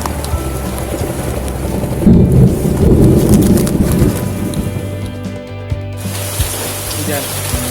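Thunderstorm with steady rain falling outdoors during a fishing trip, a loud low rumble of thunder swelling midway over continuous rain hiss, with a few sharp impacts and brief voices nearby.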